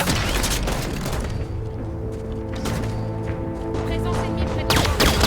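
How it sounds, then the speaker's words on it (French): Dense gunfire and explosive booms in a Halo 5: Guardians campaign battle, rapid bursts layered over a steady mechanical drone and low rumble, loud throughout with a sharper volley near the end. "Ça tire!"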